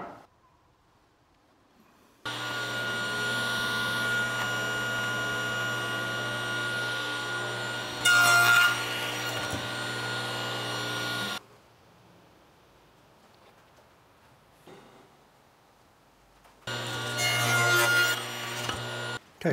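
A power saw cuts wood frame pieces to size on a framing jig, running loud and steady for about nine seconds with a sharper screech near its end, going quiet, then starting again for a shorter second cut.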